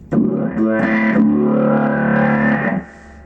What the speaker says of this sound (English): changing your sound between two vowels and oscillating between them